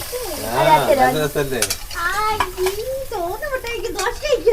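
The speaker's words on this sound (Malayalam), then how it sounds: "നല്ല പോലെ മസാലയുടെ ഒക്കെ പച്ച മണം മാറിയപ്പോ പുളിവെള്ളം ഒഴിച്ചു കൊടുക്കുന്നുണ്ട്" Tamarind water hits a hot pan of masala and tomato, giving a steady frying sizzle and stirring beneath a woman's and a child's close, lively voices talking over it throughout.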